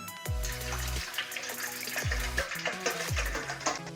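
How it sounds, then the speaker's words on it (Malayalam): Water is poured from a bottle into a vessel while making a hydroponic stock solution. Close, continuous splashing and trickling runs for several seconds with a few hollow low glugs. "ഈ കുപ്പിയിൽ നിന്നുള്ള പകുതി വെള്ളം നമ്മളൊരു പാത്രത്തിലേക്ക് പകർന്നു വയ്ക്കുക"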